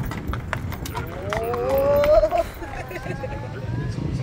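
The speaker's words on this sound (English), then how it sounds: "we're taking Tali for a ride on the horse carriage" A horse-drawn carriage ride in Tsilivi, Zakynthos, Greece, with the steady clip-clop of hooves on the road amid outdoor background noise and a drawn-out tonal call rising and falling in the middle.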